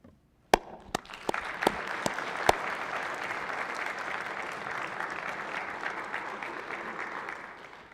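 Applause for an honoree in a state Senate chamber opens with a few sharp, separate claps that quickly grow into sustained, moderately loud clapping from a room full of people, then slowly fade.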